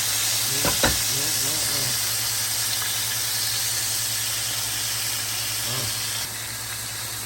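Country fried steak sizzles loudly and steadily in a hot pan while pieces are flipped, a dense, even frying hiss running the whole time with a few faint voice-like murmurs underneath.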